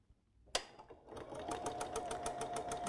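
Sewing machine stitching a quilt block: after a soft click it starts up and runs steadily with a fast, even needle rhythm, close and alone.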